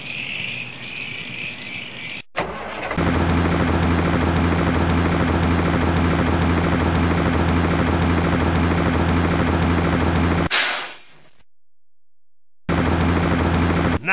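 A loud, steady helicopter rotor drone in the Tonka Construction video game, with a constant low throb, unbroken, cutting out abruptly near the end before resuming.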